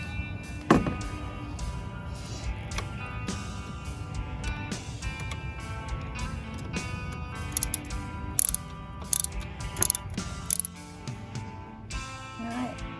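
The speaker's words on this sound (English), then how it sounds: "So I've got an 8mm socket here, and I'm just gonna try and get this out of the way." Ratchet with an 8mm socket working a screw loose on a 2017 Ford Ranger XLT engine bay, giving rapid clicking bursts up close with scattered clanks and handling noise, no voices.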